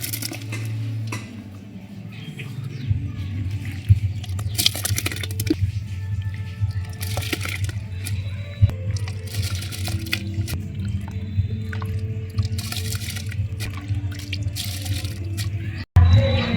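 Soaked rice goes into a pot of boiling water while tamarind rice is being made, with metallic clinks and knocks of a pot and utensils over a low bubbling rumble and wet splashes.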